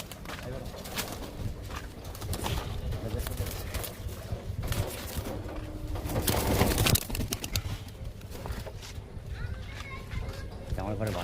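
A released pair of pigeons, sold together for 4000 taka at a home loft, coos and beats its wings amid steady outdoor noise, with a burst of flapping midway and people talking throughout.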